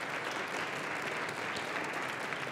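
Steady applause from a youth tournament audience, a dense even patter of many hands clapping continuously at moderate volume without pause.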